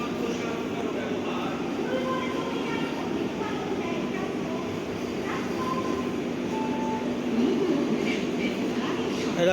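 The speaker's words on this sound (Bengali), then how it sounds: "আমাদের ট্রেনটাকে হল্ট করিয়ে বন্দে ভারতটাকে পাস করাচ্ছে" A Vande Bharat express rushes past a halted passenger train near Kharagpur as a steady, loud, broadband rumble that holds for the whole stretch, swelling slightly toward the end, with indistinct voices mixed in.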